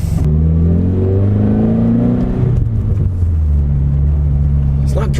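A Subaru BRZ fitted with an aftermarket Nameless Performance exhaust revs close by, a loud steady engine tone rising and falling through the revs, while people talk over it.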